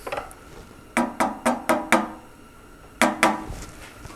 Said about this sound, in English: I don't think any amount of tapping on the side of the float bowl is going to help it